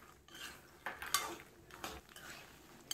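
Makhana (fox nuts) stirred in ghee in a pan, with scattered light clinks and scraping of a spoon against the pan over a quiet background, a few sharper taps standing out.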